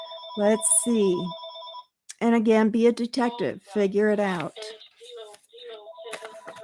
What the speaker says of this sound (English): I am sorry the phone's ringing.